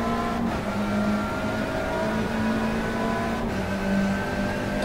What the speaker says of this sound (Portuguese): O som do carro, impressionante